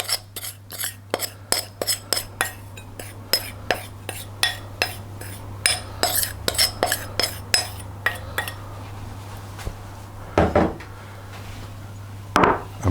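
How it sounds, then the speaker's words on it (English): Moistened biscuit crumbs being pressed into a pie dish for a key lime pie base, heard as a close run of sharp clinks and taps from a utensil against the dish, steady through the first part, then sparser louder knocks. "spread them out and press down from the centre really, because you want to make a lip around the edge as well"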